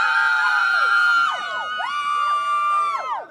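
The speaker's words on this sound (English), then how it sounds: "I think I might have the crowd with the loudest cheer" Crowd at a cricket stadium cheering for the San Francisco Unicorns, loud high-pitched screams and whoops from many voices rising and falling in waves, close and sustained.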